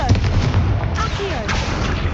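Bursts of spell fire and explosive booms from the Confringo fire spell in Hogwarts Legacy, loud and dense across two seconds with whooshing sweeps. A shouting voice is heard over them.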